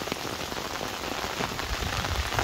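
Strong water rushing from a drain by railway tracks during a storm, a steady broadband splashing wash, close and continuous with no voices.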